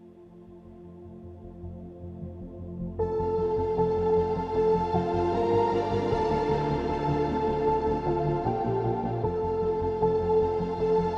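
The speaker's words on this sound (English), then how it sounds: "I took this synth bass part, just a nice little pulsing synth bass." Pulsing synth bass loops in a live-loop arrangement, fading in gently over the first few seconds before a fuller layer of sustained tones enters, leaving a dense, steady bed of sound with no voices.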